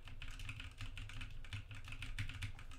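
Computer keyboard typing, with the keyboard lying flat on its feet folded for a quieter sound: rapid, faint clicks in a continuous run, heard close.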